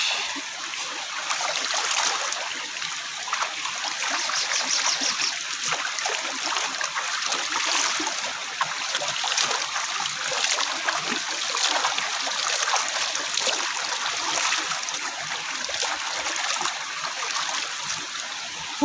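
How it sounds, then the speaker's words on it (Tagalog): River water flowing and rushing continuously at Hulo in Mariveles, Bataan, a steady, close wash of stream noise with no talk over it. "Nasa ilog tayo."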